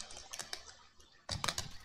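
A computer keyboard and mouse clatter under rapid gaming input, with quick bursts of key taps and clicks close up and a denser flurry near the end.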